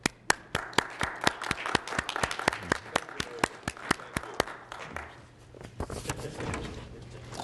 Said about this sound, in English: And you can applaud for the judges.